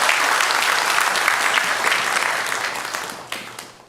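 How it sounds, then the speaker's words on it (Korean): Church congregation applauding during a Sunday morning worship service at a Korean church, a dense wash of clapping that gradually thins and fades toward the end. "영광의 박수 올려드리겠습니다."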